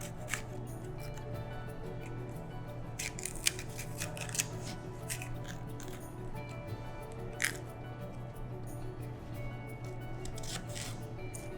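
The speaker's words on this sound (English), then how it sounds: "And cut out the ribs again." A knife cuts the ribs out of fresh, crisp peppers in a home kitchen, giving faint, close snips and crunchy slices in irregular bursts over a low background hum.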